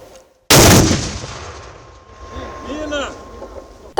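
A single loud, sharp blast from a mortar firing on enemy positions in Ukraine at the start, followed by a long fading rumble and echo outdoors, with faint voices in the background.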